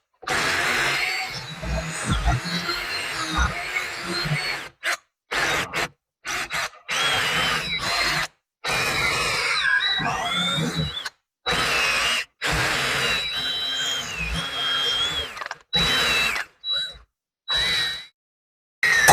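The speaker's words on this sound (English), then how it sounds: "I'm going to try a trick with the drill bit. I'm going to drill down" A power drill whines in repeated bursts, stopping and starting as it grinds into a seized metal suspension bushing, close and loud with short silences between runs.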